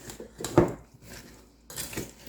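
Seasoning is stirred into roasting chicken and vegetables in a pan, giving a few close clinks and scrapes of a utensil against the pan, one sharper knock followed by softer rustling scrapes, with no talking.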